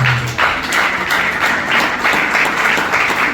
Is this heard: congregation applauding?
yes